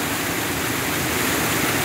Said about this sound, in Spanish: Enfocamos nuevamente acá esta pequeña cascada